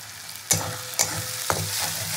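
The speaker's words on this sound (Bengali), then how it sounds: "মশলা ভালো করে কষিয়ে নিই" Chili spice masala for a fish bharta frying and being stirred in a pan, a steady sizzle broken by three sharp scraping strokes of the spoon at even half-second intervals, close and clear.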